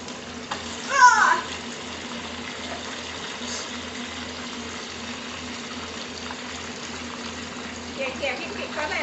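Chicken wings in fish sauce, no batter, fry in hot oil in small batches, a steady close hiss and spatter running throughout while someone speaks briefly over it.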